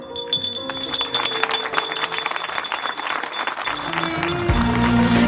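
Bells ring out with sustained, shimmering tones that grow fuller, joined by a low humming drone toward the end.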